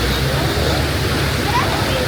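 A river rushes close by on a summer outing, a loud, continuous broadband roar of flowing water without pause.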